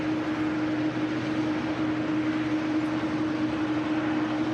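KLM airliner on approach to land at Manchester Airport, a continuous broadband jet roar with a steady engine tone, fairly loud and unchanging throughout, with no voices.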